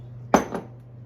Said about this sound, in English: I shouldn't have thrown my knife so quickly into the sink.